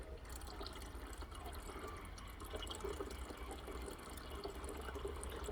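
Liquid from a gold recovery process trickles slowly through a cloth filter into a beaker, a steady faint wet trickling and dripping close by with no talk.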